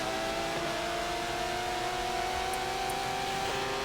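Aston Martin DBR9 race car engines drone steadily in a racing video game at Hockenheim, a continuous mid-pitched engine tone with slight pitch shifts and no pauses.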